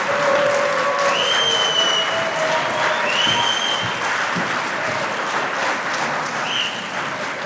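Sustained applause from an audience at a university nursing honor society chapter induction ceremony, broad steady clapping filling the full span with a few whistles and cheers above it, gradually easing toward the end.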